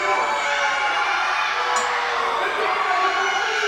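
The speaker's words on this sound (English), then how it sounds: "I think the crowd loves him." A wrestling arena crowd in the video game Ronin Rumble roars steadily, a dense, continuous wall of cheering with no breaks.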